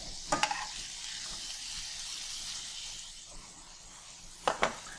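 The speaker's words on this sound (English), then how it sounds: "I'll flip it a couple times and keep stirring my bacon just so it'll cook evenly" Bacon sizzles in a pan with a steady hiss while being stirred and flipped, with two brief bursts of scraping and clatter from the utensil near the start and end.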